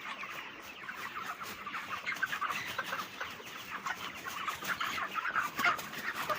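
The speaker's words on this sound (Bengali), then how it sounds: "মুরগি হাঁফাইতেছে স্টক করতেছে" A crowded shed of broiler chickens weakened and panting from heat, many birds clucking and calling at once in a steady, dense chorus close by, with no talk over it.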